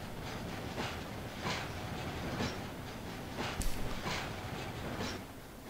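A freight train rolls past in Landwirtschafts Simulator 2013, with a steady rumble broken by regular clacking wheel beats and one sharp metallic click midway.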